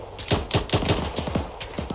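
Rapid gunfire from the Arma 3 military video game set in Takistan, a close, loud string of about a dozen quick shots in an uneven automatic rhythm with no talking.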